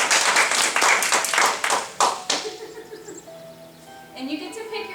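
A short burst of close hand clapping from a few people, a quick run of sharp claps that thins out and stops after about two seconds, followed by quieter talk and background sounds.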